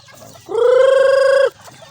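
A rooster crows once, loud and close, for about a second on a small farm. Faint low clucking from chickens is heard before and after.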